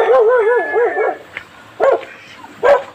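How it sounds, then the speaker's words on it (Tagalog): A dog yips and whines in a wavering howl, then gives a couple of sharp barks, fairly close, on a nature trail to a waterfall. "May aso."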